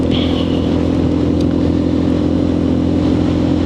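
A Lexmoto RSS motorcycle ridden on the road, its engine humming steadily and loudly at a constant pace with continuous wind rush and no speech.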